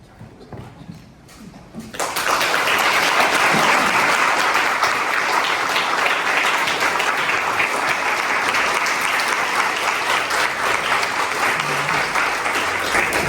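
Quiet room tone gives way after about two seconds to loud, sustained applause from a church congregation at an anniversary service, a dense wall of hand claps filling the hall until the end.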